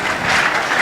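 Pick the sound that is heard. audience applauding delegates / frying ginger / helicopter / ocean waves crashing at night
audience applauding delegates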